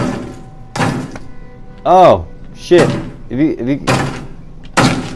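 A door opening in the horror video game Outlast Whistleblower, heard as several heavy thunks and clunks spread over a few seconds, while someone speaks and exclaims between the knocks.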